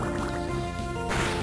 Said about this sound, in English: I use a water gun to take out.